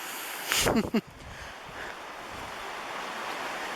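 Rushing river water below a waterfall at Deep Creek, fed by a concrete culvert that pours straight down into the river; a steady broadband wash runs throughout, with a brief louder bump of handling or wind noise near the start.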